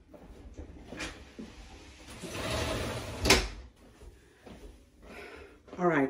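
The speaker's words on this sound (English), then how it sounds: "Let me close this door because they're working on the roof" A door swung shut indoors in a home kitchen, with a shuffling approach, a sliding rumble and a single firm thud, then quieter movement, while roof work goes on outside.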